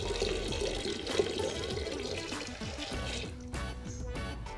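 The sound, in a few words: pouring oleo saccharum into Scotch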